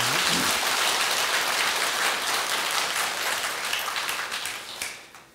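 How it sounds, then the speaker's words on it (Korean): An audience at a Buddhist New Year prayer sermon applauds once more, a loud, dense, hissing wash of clapping that holds steady for several seconds before fading. "그리 생각하면 박수 한 번 더 쳐야 되거든요"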